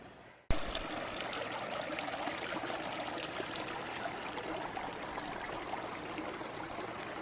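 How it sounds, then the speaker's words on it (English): A creek flows steadily on an icy, rocky hiking trail, a close, continuous rush and babble of water heard alone after a brief quieter start. "I love the sound of the creek over there."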